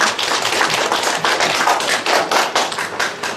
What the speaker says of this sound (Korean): 다시 한번 원장님께 박수 한번 부탁드릴게요